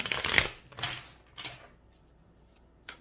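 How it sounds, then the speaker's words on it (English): A deck of tarot cards is shuffled in a few quick, papery riffling bursts that fade and stop, close up and fairly quiet with no voice over them. "cards don't want to shuffle"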